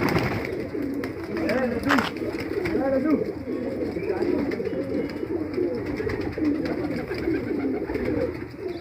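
Many pigeons of Deobandi breeds coo continuously together in a loft of about a hundred birds, a dense layered murmur close by, with a voice speaking over it.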